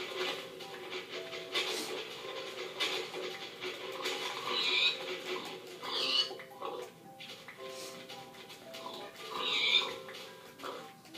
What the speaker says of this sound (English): Look at all these pigs.